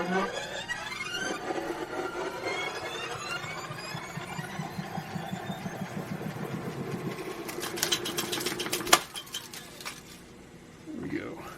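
An Akai M7 reel-to-reel tape recorder rewinding under repair, a whirring motor with rising and falling squealing tones as the reels spin, a sharp clunk near the end, then quieter mechanical hum, with a voice talking over parts.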